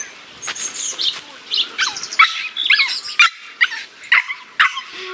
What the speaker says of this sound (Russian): Собака вон.